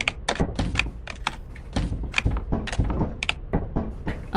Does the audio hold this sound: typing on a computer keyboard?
yes